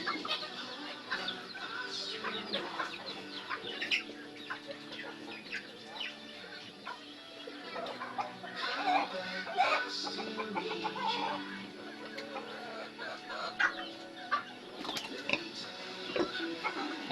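A hen clucks softly and repeatedly at close range, with scattered quiet farmyard noises and no clear talking.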